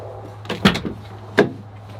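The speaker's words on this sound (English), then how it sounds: "In the bed is the deck system. Pull out drawers." A pull-out drawer in the bed deck system of a 2020 Jeep Gladiator truck slides and thuds, a couple of close mechanical clunks with a brief rumble over a low steady hum.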